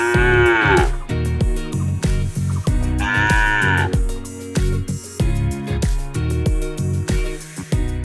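Loud cattle mooing, several long lowing calls overlapping from different animals, close by, with a few deeper bellows in between.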